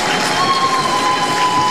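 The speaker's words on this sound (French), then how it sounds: "Le président élu qui fait son entrée sous les applaudissements de l'assistance et notamment des parlementaires" Continuous applause and cheering from parliamentarians and guests as President Paul Biya enters the Cameroon assembly chamber for his swearing-in, a loud, dense wash of clapping with no pauses.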